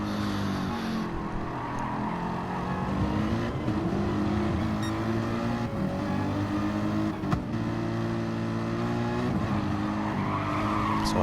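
Racing cars, a GTR among them, battle in Gran Turismo Sport, with steady loud engine drone and shifting revs throughout, occasional tire squeal and cars passing close.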